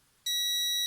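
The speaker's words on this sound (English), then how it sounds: "it beeps when I'm touching the two little dimples" A Polaroid SX-70 instant camera under restoration gives a single sustained high-pitched electronic beep when its two contacts are touched, starting abruptly and holding steady and loud.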